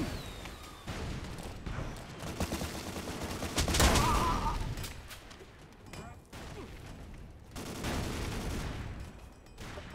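Gunfire in an Ace of Spades-style shooter video game, with sharp repeated shots and bursts scattered across a busy, loud mix, partly under voices.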